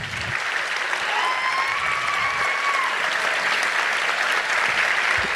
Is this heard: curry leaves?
no